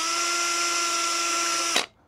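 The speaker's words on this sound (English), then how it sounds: "I'm just gonna drill one hole to try out the rivet" A steady high whine of a power drill drilling a rivet hole in a reefer trailer roof for nearly two seconds, then cutting off abruptly as it winds down, close and loud.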